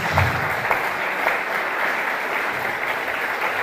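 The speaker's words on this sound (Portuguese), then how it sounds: "Vamos aplaudir ao Senhor pela vida desse irmão que nos assiste." A church congregation applauds at a family worship service, a steady, dense wash of clapping from many hands that holds evenly throughout.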